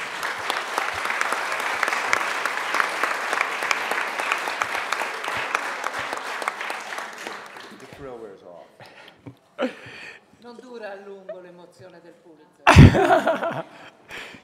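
An audience at a literary award event bursts into sustained, dense applause for several seconds, then the clapping fades out and a few voices, a cough and a loud thump follow.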